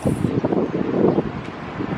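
Gusty wind buffets close to the microphone, a low rumbling roar that swells and dips in uneven pulses.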